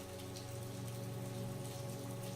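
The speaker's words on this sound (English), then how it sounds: "a few raindrops splattered against their faces" Steady rain in a soothing sleep story: a constant dense hiss of falling raindrops under a soft low hum, even and unbroken throughout.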